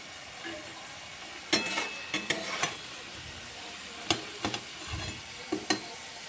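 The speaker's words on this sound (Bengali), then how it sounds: "পটল চিংড়ি রান্না করতে গেলে চিংড়ি মাছটা একটু হালকা করে ভেজে নিতে হয়।" Small shrimp frying lightly in a pan, a soft steady sizzle broken by sharp spatula scrapes and clinks against the pan in short bursts, close and fairly quiet.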